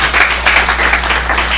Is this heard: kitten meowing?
no